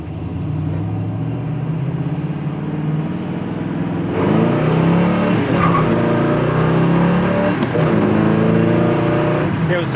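A 1969 Chevy Camaro accelerating hard, its engine note climbing steadily and loudly through the gears, with a harder surge about halfway through; a person talks over the roar.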